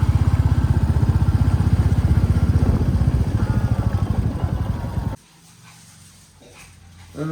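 A motorcycle carrying riders along a village road at night, its engine a steady close, loud throbbing drone for about five seconds before cutting off abruptly to near silence.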